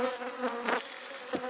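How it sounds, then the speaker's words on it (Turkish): Honey bees of an Italian strain buzz on a hive frame as it is lifted, a quiet, steady droning hum with a few brief swells as individual bees pass close. "Tamamen arı kaplanmış."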